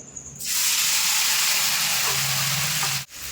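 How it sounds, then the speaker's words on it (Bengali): Soaked sago poured into hot ghee in a wok bursts into a loud, close sizzle that holds steady as a broad hiss, then drops off sharply near the end. "এখন আমি দিয়ে দেবো পুরো শাহুটাই এই ঘিয়ের উপর"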